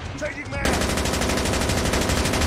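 Rapid automatic gunfire from Call of Duty Mobile in zombie mode erupts after a short lead-in and continues as a loud, dense, sustained burst, with a voice briefly heard beforehand.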